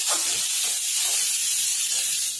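Thinly sliced cabbage and spring onions stir-fried together in a hot pan for cabbage Manchurian give off a loud, continuous steamy hiss and sizzle, close and uninterrupted throughout.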